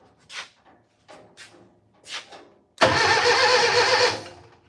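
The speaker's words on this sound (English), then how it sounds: "Remote start." A few quiet clicks and thumps, then a car engine cranks loudly on remote start for over a second, a steady grinding churn that stops without catching.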